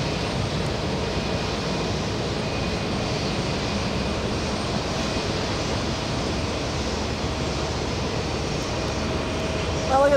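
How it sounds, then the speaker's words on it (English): A Lufthansa airliner takes off from runway 4 left at JFK airport, its jet engines a loud, steady broadband roar that holds evenly throughout, heard from a distance with no voices. "Lufthansa 411 is on the move. And we will have a liftoff in front of our cameras."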